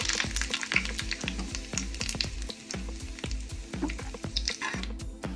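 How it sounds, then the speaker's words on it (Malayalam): Curry leaves frying in hot oil crackle and sizzle steadily up close, with a dense spitting texture and a fast rhythm of small pops throughout. "അതുകൊണ്ട് എണ്ണ കളറ് മാറുന്നതിന് മുമ്പേ നമുക്ക് കറിവേപ്പില ഫ്രൈ ചെയ്തെടുക്കാം"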